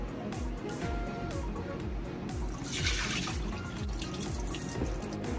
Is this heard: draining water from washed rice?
yes